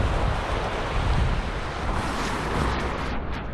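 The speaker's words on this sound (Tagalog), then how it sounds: "Pasensya na po ngayon at mahangin." Strong wind blows at a seaside fishing spot, roaring and buffeting the microphone in a dense, constant rush, with surf washing beneath it and no voices.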